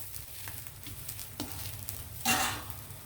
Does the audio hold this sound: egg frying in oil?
yes